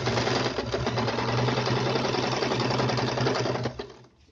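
Sewing machine stitching a center table mat made from old jeans, a fast continuous mechanical whir and rattle running steadily, close and loud, then stopping abruptly near the end with no voices.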